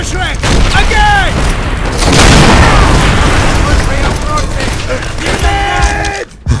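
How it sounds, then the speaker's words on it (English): Panzerschreck rockets are fired and burst in a World War II battle in World at War, with a sustained roaring blast and rumbling explosions under shouted battlefield voices and whistling debris. "Fire the Panzerschreck! Again!"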